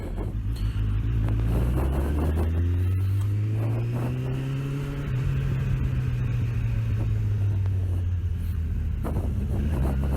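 A car rumbles steadily along rough roads, its low engine drone rising and falling as it drives, with bumps and rattles audible throughout and no talking.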